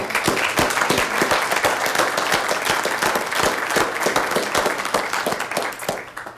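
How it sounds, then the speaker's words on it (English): Audience at a city council meeting applauding city staff, a full room of sharp overlapping claps held steady before tapering off at the end. "So I want to give our staff a round of applause as well."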